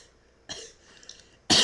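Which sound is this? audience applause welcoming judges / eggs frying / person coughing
person coughing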